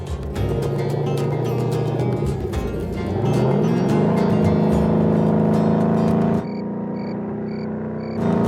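A Toyota Prius drives along, its steady engine and road noise holding throughout with a rise in pitch midway, then easing near the end.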